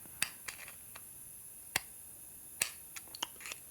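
A shaft with a burred keyway from a 1961 Harley-Davidson Sportster XLCH transmission being rotated by hand, catching on high spots as a few faint, sharp, irregular clicks and ticks over quiet background.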